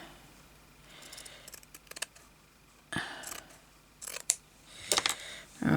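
Scissors snip through paper or fabric for a hand-stitched book, giving a few short, close cutting bursts separated by quiet pauses, with no talk.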